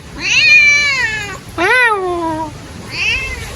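A kitten meows three times up close, loud and drawn out, with short pauses between the cries and no talking.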